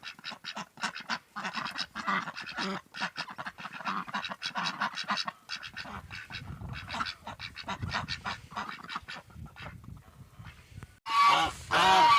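A flock of hungry geese honking loudly and repeatedly in quick irregular bursts, close by, with a short pause before a final noisy burst.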